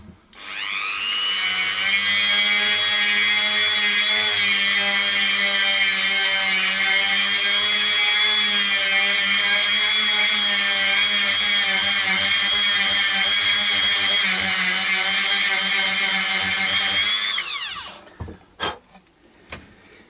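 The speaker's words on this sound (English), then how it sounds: "you use a Dremel sanding bit like that" A Dremel sanding bit grinds a mahogany guitar bridge on a Gordon Smith single-cut guitar, a loud, sustained high-pitched whine running steadily for about seventeen seconds before spinning down, followed by a few light taps.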